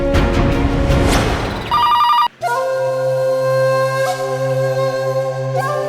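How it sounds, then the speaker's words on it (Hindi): A telephone rings loudly and close, an electronic ringtone repeating in steady tones after a brief burst of other sound, with no talk over it. "इंस्पेक्टर शिंदे, मैं आपके फोन का इंतजार कर रही थी।"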